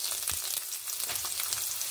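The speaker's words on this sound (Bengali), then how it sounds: "বড়িগুলো প্রায় ভাজা হয়ে এসেছে।" Bengali lentil dumplings, bori, nearly done frying in hot oil, giving a steady close hiss and crackle throughout with no voices.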